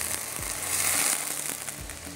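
Yakhni stock hitting fried garlic in a hot pan with a strong, steady sizzle and crackle, loud and close, running without pause throughout.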